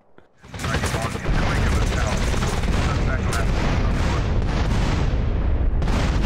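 Dense, nonstop barrage of gunfire and explosions during the Caligula's casino heist in GTA San Andreas, loud and sustained after a brief quiet start, with continuous crackling blasts throughout.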